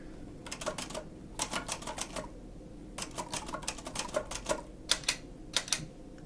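Bursts of rapid mechanical typewriter keystrokes clatter in quick clustered runs with short pauses between, close and crisp in a quiet room, with no voices.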